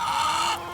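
Chickens in a muddy, rain-soaked pen after flooding give a short, close, sustained call.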